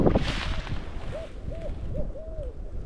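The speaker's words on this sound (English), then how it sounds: "Got an owl popping off over here." An owl hooting in the woods during a shed antler hunt on a small property, a series of four or five soft, evenly spaced hoots heard at a distance over faint outdoor rustle.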